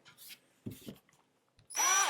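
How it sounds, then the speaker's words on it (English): Power drill boring into brushed stainless steel, set on a sturdy table, starting with a loud, steady high whine near the end after a few quiet taps and rustles. "we're going to drill the center of that bullseye"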